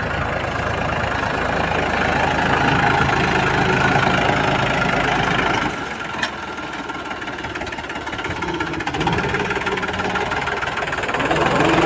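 A tractor engine runs continuously with a heavy, chugging drone, dipping in loudness partway through and then rising again.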